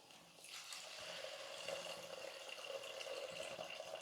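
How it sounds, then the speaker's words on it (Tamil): Tamarind water poured into sautéed masala in a home kitchen, a quiet, soft, continuous liquid pour and trickle lasting a few seconds. "இப்போ வந்து நம்ம மசாலாலாம் சேர்த்து நல்லா வதங்கிடுச்சு புளி தண்ணி சேர்த்துடலாம்"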